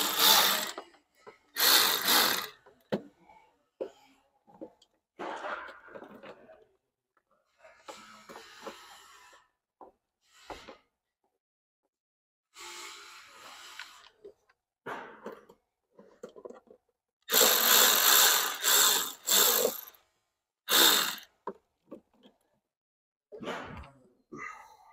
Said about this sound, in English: Using a 1/4 inch nut driver or socket,